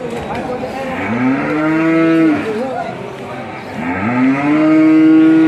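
Cattle moo loudly and close by in two long, drawn-out calls, with a short gap between them, at a cattle market in Yogyakarta, Indonesia.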